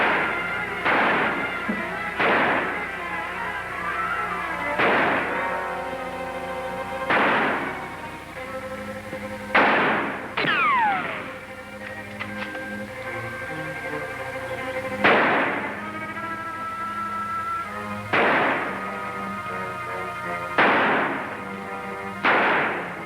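Gunfire in a jungle adventure scene: a series of sharp, loud shots fired at irregular intervals, each with a ringing decay, plus a brief ricochet-like whine near the middle.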